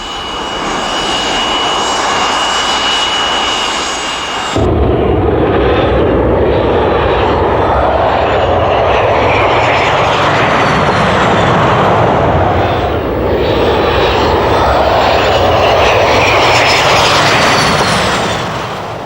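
Engine of a Lockheed F-117 Nighthawk stealth aircraft, a loud sustained jet roar with a high-pitched whine that jumps louder a few seconds in and then holds steady, rising and falling slightly.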